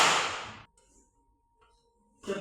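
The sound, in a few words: a single hand clap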